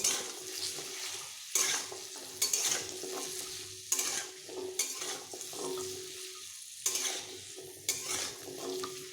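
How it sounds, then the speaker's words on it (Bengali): Papaya pieces fry with salt and turmeric for a vegetarian papaya-potato dalna, making a steady close sizzle broken by several sharp scrapes and clatters of a spatula stirring in the pan, with no talking. "নুন ও হলুদ গুঁড়ো মিশিয়ে পেঁপেগুলোকে আমি বেশ ভালোভাবে ভেজে নেব"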